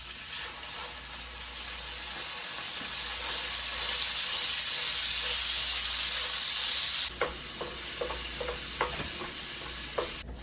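Ground chuck beef sizzles steadily in a pan, a dense bright hiss at first, then quieter frying with a few sharp scrapes and clicks of stirring near the end.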